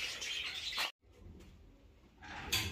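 A pair of macaws call in short bursts, one harsh squawk at the start and another near the end, separated by a quiet gap with only faint background rustle.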